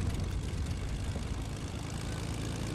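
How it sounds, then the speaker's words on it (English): A plane flown in the Fortnite video game gives a steady, dense engine drone with propeller buzz, continuous and fairly loud across the short stretch. "I'm driving a plane."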